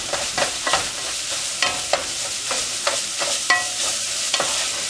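Sausage browns in a lightly greased pan for gravy, a continuous sizzle broken by frequent scraping stirs of a utensil keeping it moving, close and clear with no talking.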